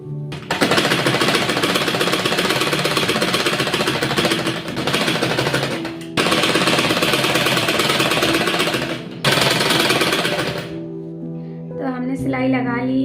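An electric sewing machine stitches a border strip onto a kurti in loud, fast, continuous runs, pausing twice and stopping before a voice begins to talk at the end.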